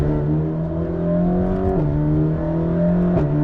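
A Mercedes-AMG GT Black Series V8 in Sport mode rumbles loud and close, holding a steady revving drone, with sharp downshift blips twice.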